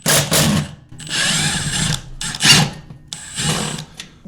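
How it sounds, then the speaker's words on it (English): Power drill backing out small screws, with bursts of close, loud whirring that start and stop several times, separated by short pauses. "All I'm going to do is remove the little screws that hold everything in"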